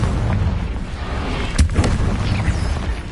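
Confringo blasting curse from Hogwarts Legacy sets off a loud, dense explosive boom with a sharp burst partway through, over a continuous rumbling battle din; no one talks.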